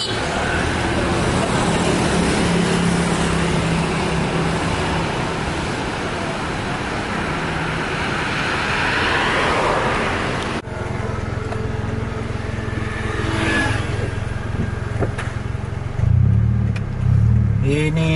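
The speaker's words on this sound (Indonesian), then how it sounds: "Yang Putra Pelangi Scania K360 juga berangkat." A Putra Pelangi Scania K360 coach pulls away from a terminal at night in Aceh, its engine rumbling steadily amid traffic noise, with a louder shift partway through and engine surges near the end.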